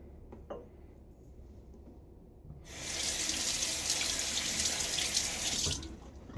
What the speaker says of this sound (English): Rinse off the threads here.